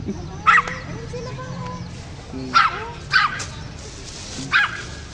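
A dog gives several short, sharp barks and yips spaced apart at close range, with people talking softly between them.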